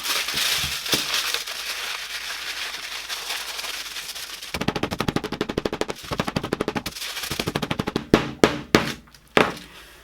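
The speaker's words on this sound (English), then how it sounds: "especially when you give it a few whacks with a hammer." Rapid hammer blows on a crumpled aluminum foil ball, a fast rattling series of strikes, then several slower, heavier whacks near the end, close and loud.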